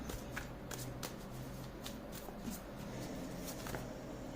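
Tarot cards are shuffled by hand, a quiet close run of soft riffling flicks and taps repeating at an irregular pace, with no talking.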